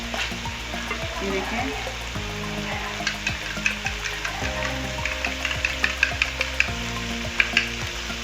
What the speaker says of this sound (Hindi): मैंने कहा अंडा पहले हम इसमें फ्राई कर लेते हैं